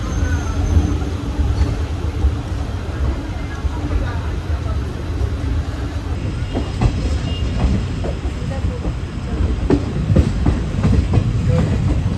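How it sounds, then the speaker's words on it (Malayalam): A Vijayapura–Mangaluru special train pulls out of the station, its low rumble joined by rhythmic wheel clicks on the rails that grow more frequent and distinct as it gathers speed, with faint voices in the background. "കൃത്യം 3 മണിക്ക് തന്നെ നമ്മുടെ മംഗലാപുരം സ്പെഷ്യൽ ഇവിടെ നിന്ന് പുറപ്പെട്ടെ"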